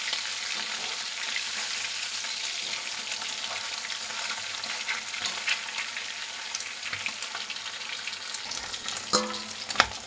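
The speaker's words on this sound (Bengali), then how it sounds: "এখন এই পাশটাও ভাজা হবে।" Pomfret fish frying in a pan, a steady close hiss and sizzle of hot oil running throughout, with a brief clatter of turning near the end.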